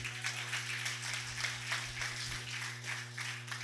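Church congregation clapping during a Spanish-language sermon, a dense, steady patter of many hands at moderate distance over a low electrical hum, with no talking.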